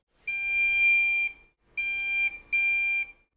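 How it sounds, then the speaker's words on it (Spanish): A QNAP TBS-h574TX NAS connected over Thunderbolt gives three clear electronic beeps, one long tone followed by two shorter ones, loud and close in a quiet room. "Ese pitido indica que se ha conectado"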